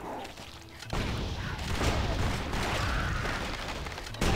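Dense, sustained gunfire erupts from gun-wielding rats in the action RPG Torchlight 2, a loud continuous barrage after a brief quieter start, cutting off abruptly near the end.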